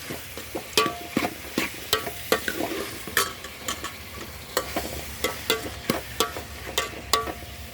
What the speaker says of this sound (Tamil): தக்காளி போட்டு தக்காளியை நல்லா பொன்னிறமாக மறிக்க நல்லா வதக்கணும்.